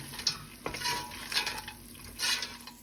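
Roasted cashew nuts being stirred into dragon chicken in a hot pan, with a continuous sizzle and the scrape and clatter of a spoon against the pan in quick, close strokes.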